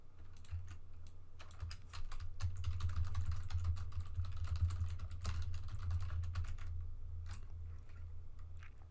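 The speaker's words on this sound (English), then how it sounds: "so I'm going to just type that out manually" Someone types steadily on a computer keyboard, producing soft, quick clicking keystrokes close by, with brief pauses between bursts and no talking.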